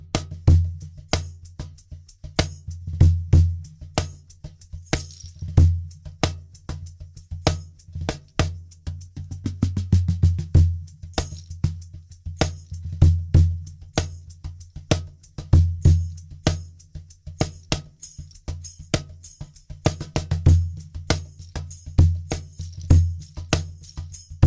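A cajon groove with a Meinl foot rattle worn on the leg is played up close: steady deep bass thumps and crisp slaps repeat in a driving rhythm, with faint jingles riding along.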